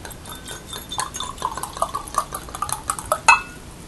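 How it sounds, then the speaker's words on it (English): Red Carmenere wine from Veneto is poured from a bottle into a glass: soft liquid trickling, with light clinks of glass and small taps, close and quiet, no talking. "Let's just pour some of it."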